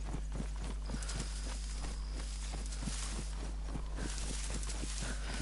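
A ridden bear in the DayZ video game plods along with steady, evenly spaced heavy footfalls, a regular walking rhythm set over a constant low hum and wind-like noise.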